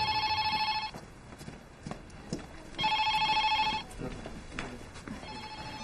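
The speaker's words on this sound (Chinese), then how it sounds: "李大弟电话找你，是不是出什么事儿了" A telephone bell rings in bursts of about a second separated by pauses, three rings in all, fairly close and clear with faint background sounds and no talk between them.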